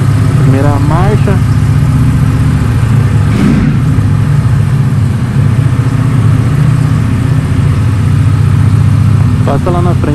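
Brand-new Ducati V4S motorcycle leaving the dealership, its engine running loud and close with a steady throbbing rumble as it pulls away in first gear, while people talk over it.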